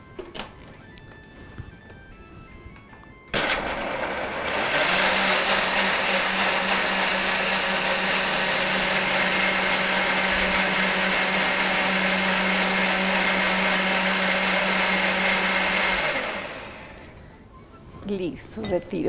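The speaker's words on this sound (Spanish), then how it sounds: "vamos a licuarlo." A kitchen blender whirs loudly and steadily for about twelve seconds while pumpkin cake ingredients are blended, starting abruptly and then winding down, with quieter kitchen sounds before and after.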